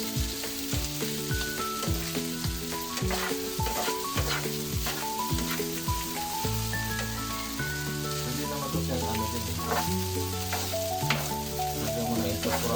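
Garlic rice made from leftover rice sizzles and fries in a pan as it is stirred continuously, a steady crackling hiss running under loud tonal music throughout.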